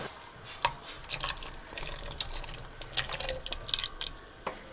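Water poured from a measuring cup into a soup pot of beans and bean liquid, a close, fairly quiet stream of splashing and drips lasting several seconds with no talking.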